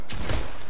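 A quick burst of gunfire in the Fortnite video game, sharp and loud, with a couple of shots cracking close together and no voices.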